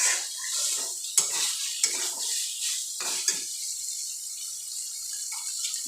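Fried pointed gourd is stirred into spice paste in a hot pan, with a steady sizzle under repeated scraping strokes and sharp clicks of a utensil against the metal, close and clear with no talking.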